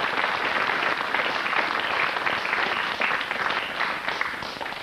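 A radio quiz studio audience applauds a winning contestant, a steady, moderately distant wash of clapping that stays even throughout and fades slightly toward the end.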